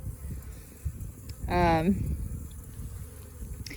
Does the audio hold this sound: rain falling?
no